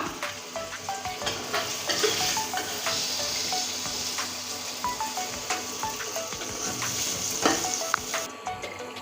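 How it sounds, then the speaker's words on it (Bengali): Potatoes fry in hot oil with a steady, close sizzle, broken by occasional light scrapes and clinks of stirring in the pan. "আলুটা লাল করে ভেজে নিয়েছি"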